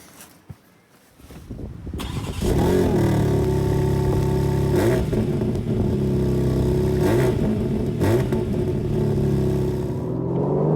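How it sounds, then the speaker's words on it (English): A 2021 BMW M3 Competition accelerates hard on the road, its engine note climbing loud and aggressive through rising revs with brief shift dips, close and continuous with no talking. "So out and about then in the new M3 competition, and as you can probably see, it's pretty rapid and pretty aggressive."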